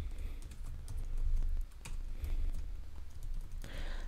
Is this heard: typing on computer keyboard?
yes